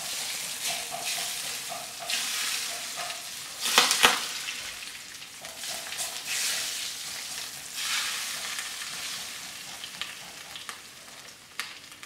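Spices crackling and sizzling in hot oil in a pan, a steady frying hiss with a sharper spattering burst partway through, heard close with no talking.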